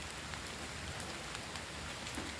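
Light rain falls at night on wet tree leaves, a steady soft patter of drops running evenly throughout with no voices.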